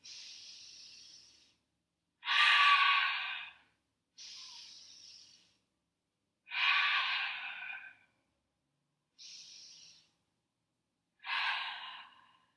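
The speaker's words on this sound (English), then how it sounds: "Taking 3 more breaths." Deep, slow yoga breathing: three inhale-exhale cycles in an even rhythm, each long breath close and clearly audible, with near-silent pauses between them and no talking.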